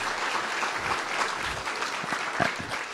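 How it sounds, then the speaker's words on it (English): An audience at a patient symposium on Parkinson's disease gives a round of applause, a steady moderate wash of clapping heard alone. "Round of applause"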